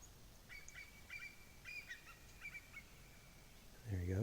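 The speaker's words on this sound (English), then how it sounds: "The eagles are over there somewhere just going at something." Distant birds calling on an island campsite, with repeated short high squawks in several bursts across the clip, then a closer low rumble at the very end.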